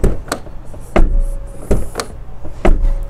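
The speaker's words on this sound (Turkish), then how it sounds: "Kalın kalın kütür kütür kapıları var." Volkswagen Passat B6 2.0 TDI door opened and shut several times at close range, each a solid, heavy thud with a short latch click, spaced roughly every second with no talking.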